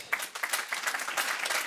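A crowd at an agricultural direct-marketing awards ceremony applauds, a steady wash of many hands clapping, fairly close and unbroken.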